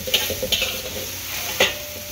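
Red chili paste with coarsely ground chilies and a little salt sizzles in hot oil as it is stirred, with a steady frying hiss and a few sharp scraping stirs close by.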